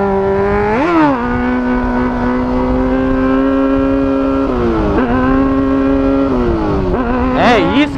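Honda Hornet motorcycle engine revving hard during wheelie practice, a loud sustained high-rpm drone with pitch dips and surges as the throttle shifts, close and continuous throughout.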